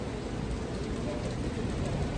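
Rain pouring steadily outdoors on a city street in September, a dense, even hiss of falling water close around.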